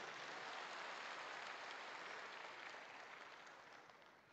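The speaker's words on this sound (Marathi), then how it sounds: "एकदा सगळ्यांसाठी टाळ्या वाजवा म्हणजे मला पण कळेल सुरुवात करायची" An audience at a rally claps together in a sustained round of applause, a dense wash of many hands that stays steady before slowly fading toward the end, heard from some distance with no voices above it.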